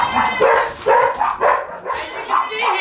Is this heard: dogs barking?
yes